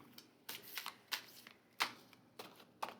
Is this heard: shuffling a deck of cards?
yes